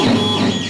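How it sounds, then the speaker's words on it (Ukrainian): A printer runs steadily, printing out a digital sewing pattern for adaptive military clothing in a small garment workshop, giving a continuous mechanical hum and whir for under a second. "Цифрове лекало Дмитро Ковальчук роздруковує на принтері"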